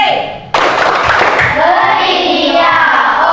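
A group of students in a classroom clapping together, starting abruptly as loud, dense applause that keeps going steadily to the end, with a few voices mixed in.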